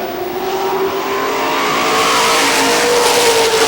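A field of Pro Stock race cars runs laps at Lee USA Speedway in New Hampshire. Loud, sustained engine roar fills the track, with rising and falling tones as the cars pass in single file.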